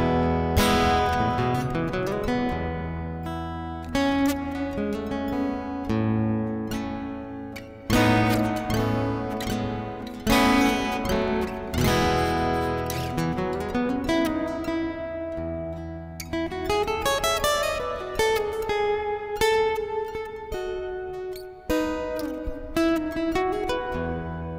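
An instrument played through an Orange Acoustic Pre valve preamp with the heat control at minimum, giving a full, sustained tone with overlapping chords and notes, loud and steady throughout without talk.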